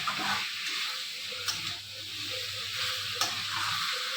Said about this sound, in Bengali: যতক্ষণ না মাংস থেকে তেল বেরোচ্ছে ততক্ষণ ভালো করে কষিয়ে নিতে হবে।